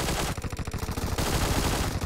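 Rapid automatic gunfire in PUBG Mobile, loud close bursts of evenly spaced shots running together across the whole moment.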